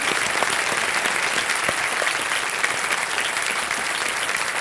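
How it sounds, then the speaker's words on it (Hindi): Studio audience applause on a TV quiz show (KBC), a steady, dense wash of clapping that stays loud and even throughout, with no one speaking over it. "एक बार तालियां बज जाए"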